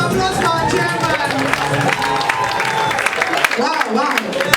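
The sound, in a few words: audience applause for the chairman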